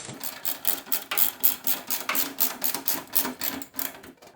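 A ratchet wrench tightens a clamp strap around a tube on a Miata, making rapid, evenly spaced clicks that run close and steady for several seconds.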